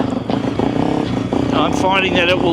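A motorcycle engine tuned with an SSS stage 2 ECU runs steadily under a man's continuous close-up talk.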